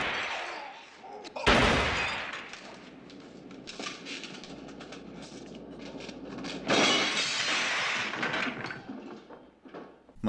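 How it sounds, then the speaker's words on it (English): Gunshots crack in the Godfather restaurant scene, a sharp loud blast near the start followed by another burst later, with breaking and shattering noise amid a tense, muffled room. "Michael shoots them dead."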